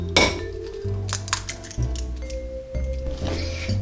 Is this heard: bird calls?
no